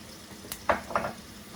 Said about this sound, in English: I'm using canola oil, and to that what we're going to do is add 2 roughly chopped onions.